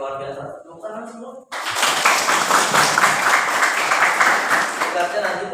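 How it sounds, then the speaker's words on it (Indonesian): A school classroom breaks into applause after someone speaks briefly, the clapping starting abruptly and continuing as a dense, lively patter from the whole class. "Tepuk tangan semua."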